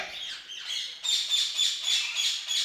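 Alexandrine parakeet chicks at a large exotic bird breeder squawk in a close, raspy chorus, with repeated shrill begging calls pulsing in a steady rhythm.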